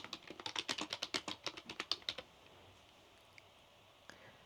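Fast, crisp keystrokes on a computer keyboard as text is typed in a steady burst of about a dozen clicks, then quiet room tone with a couple of faint taps; no talking.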